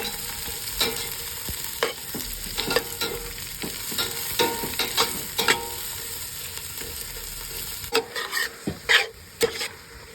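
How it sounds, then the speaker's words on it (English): Pork sautéing with onions over a high flame for Pangasinan-style pork igado, a steady sizzle broken by repeated clattering stirs and scrapes of a utensil in the pan, growing louder and sharper toward the end. "The meat being sauteed. The fire being high."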